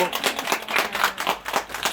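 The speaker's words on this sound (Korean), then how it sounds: "크게 박수 좀 주세요" A small group in an old Euljiro alley in Seoul claps in quick, uneven bursts that run throughout, mixed under ongoing talk.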